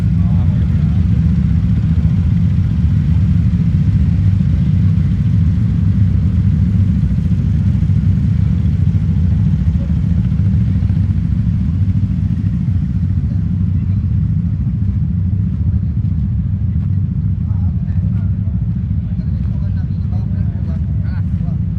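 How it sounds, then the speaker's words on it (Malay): Several Honda Forza scooters idling together at a riders' event, a loud continuous low engine rumble close by, with people talking over it. "sama hidupkan enjin"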